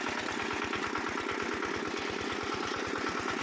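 A tractor engine idles close by with a fast, even chugging throb that runs continuously and loud.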